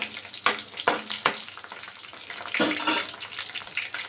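Cumin seeds dropped into hot oil with already fried red chillies, crackling and sizzling steadily, with a few louder spits and stirring scrapes near the pan and no voices.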